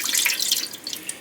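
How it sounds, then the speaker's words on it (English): Exactly a cup and a half of water is poured into the bottom of a Ninja Speedi cooker, a brief splashing trickle, close and steady, with no voices. "we're going to put 1 1/2, and it really needs to be exactly a cup and a half of water"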